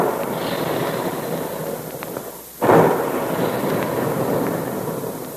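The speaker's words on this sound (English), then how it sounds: "And there go the big guns, reminding us all that puffed wheat and puffed rice actually are shot from guns right in the Quaker plant." A radio drama sound effect of big guns firing: a single heavy blast bursts out midway through a hissing, noisy background and then slowly fades.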